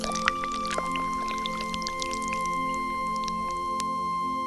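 Water pours and drips from a clay pot being given to a thirsty hawk, a soft steady splashing trickle with scattered drips, heard alongside a sustained background tone.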